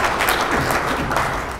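An audience applauds a senator's speech, producing a steady, dense wash of clapping throughout that does not fade.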